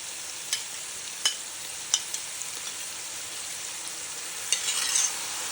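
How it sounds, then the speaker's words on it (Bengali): Onion, ginger, garlic and chili spice paste being stir-fried for a meat curry, giving a steady soft sizzle with a few sharp scrapes of the spoon against the pan and a brighter burst of frying near the end. "এবার এই মশলার বাটি ধোয়া জলটা অল্প অল্প করে দেব আর কষাবো।"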